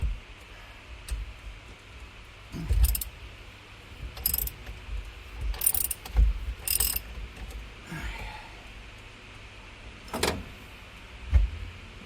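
Short bursts of ratcheting from a socket wrench working on a GMC steering wheel come and go several times in a quiet workshop, each burst close and crisp with low thumps between.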